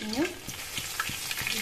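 Bay leaves frying in hot oil for a mixed dal, giving a steady close sizzle with a few soft stirring clicks and scrapes over about two seconds.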